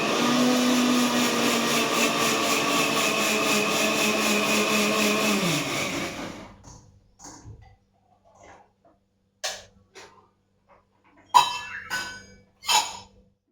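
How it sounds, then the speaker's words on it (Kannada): A kitchen mixer grinder runs loud and steady for about six seconds while grinding a spoonful or so of spice mix for pulao, then winds down and stops, followed by a few scattered clinks and knocks. "ಇಷ್ಟು ಇವಾಗ ಮಿಕ್ಸಿ ಮಾಡ್ಕೊಂಡು ಬರ್ತೀನಿ."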